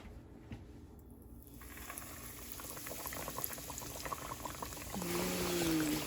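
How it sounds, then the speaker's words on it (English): Breaded leftover turkey fries in a pan of oil, a steady hiss and bubbling sizzle that swells louder toward the end. "Once it's all patted, we're going to start to fry and make sure you lay it away from you when you do so."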